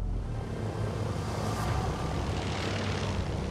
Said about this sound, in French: Alors que les avions survolaient Pompéi